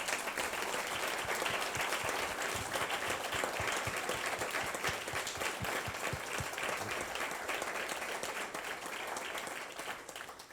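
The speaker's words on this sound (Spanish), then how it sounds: "para los que le pido un fuerte aplauso." Sustained applause from an audience at a book presentation about the Cromañón tragedy, dense steady clapping filling the room for about ten seconds before easing slightly at the end.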